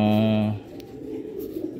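A pigeon coos loudly and close at hand in a single drawn-out call, followed by quieter outdoor background ambience.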